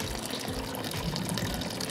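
A small stream of water runs into a garden pond with a steady, close splashing trickle that stays even and continuous from start to finish.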